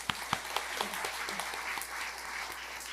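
A church congregation at a worship service applauds, a close, steady wash of many hands clapping together with a few sharper individual claps standing out.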